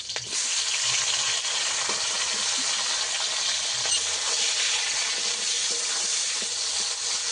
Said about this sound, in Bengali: কাঁচা লঙ্কাটা হালকা করে ভাজা হয়ে গেলে টমেটো দিয়ে দেব কেটে রাখা।